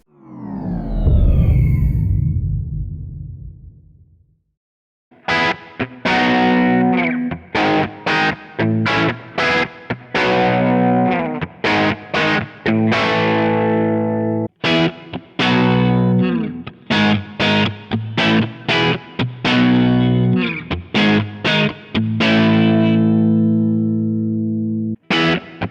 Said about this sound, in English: Let's have a bit more overdrive and some chords.